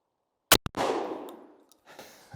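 A Beretta 1301 shotgun fires a single home defense load outdoors, one sharp loud blast with a second quick impact, then a long rolling echo that fades over about a second, followed by faint clinks.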